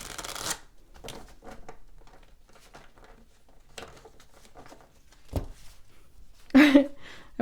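Tarot cards being shuffled by hand, a steady papery patter of soft riffling flicks running through most of the stretch, close and fairly quiet, with a sharper rustle near the end.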